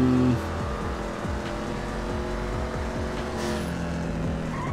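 A Ford Mustang driven in GTA 5 gameplay, with a steady engine drone and repeated tire squeal and skidding running throughout, close and fairly loud, with no talk over it.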